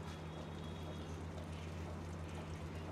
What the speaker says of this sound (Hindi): अब इसमें ऐड करेंगे पानी।